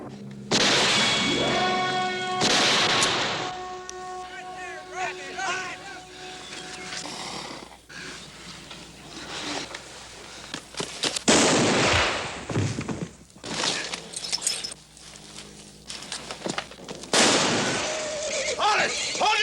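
Gunfire in a Western standoff, with several sharp, loud shots cracking out in separate bursts amid music and raised voices.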